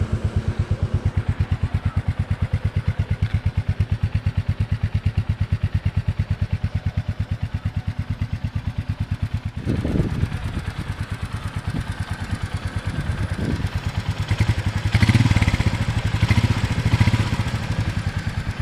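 A Royal Enfield Meteor 350 motorcycle idles steadily nearby with a fast, even thumping pulse, then takes a few gentle blips of throttle partway through, kept low while the engine is in its run-in period.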